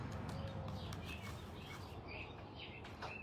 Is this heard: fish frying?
no